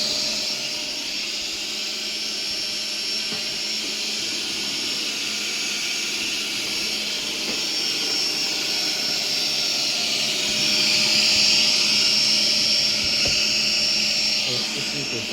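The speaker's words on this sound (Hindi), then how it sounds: "इसी तरह इसके इनर पार्ट को भी आप किसी भी वैक्यूम क्लीनर से" A vacuum cleaner runs with a steady, loud whine while it cleans the inner part of a Philips air purifier that has an F0 error, and someone talks over it throughout.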